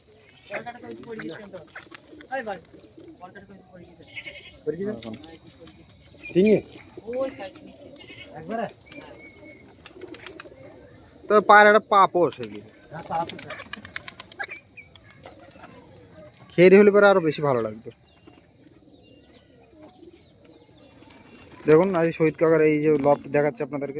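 Several pigeons coo in short bursts across a backyard flock, with people talking over them in between and a few louder calls close by.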